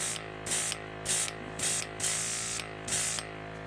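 Aerosol clear coat hisses onto Guild Ball miniature figures in about six short bursts, each a loud, close spray lasting under half a second with brief pauses between, with no voices.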